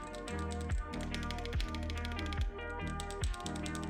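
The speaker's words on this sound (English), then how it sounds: "I swapped out the switches with blue Holy Pandas, and so they sound like this." Steady, rapid clacking comes from typing on an Opal Crystal mechanical keyboard fitted with blue Holy Panda switches, with a heavier thock about every three-quarters of a second, close-miked and alone.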